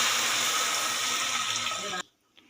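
Hot water pours steadily into a pot of sprouted moth beans for about two seconds, a bright continuous splashing stream, then stops abruptly, leaving near silence and a faint clink.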